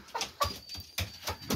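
A rooster and a couple of hens in a chicken coop made from an old camper give short, close clucks and soft calls in an uneven rhythm, with no talking.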